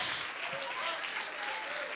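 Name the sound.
congregation applauding in church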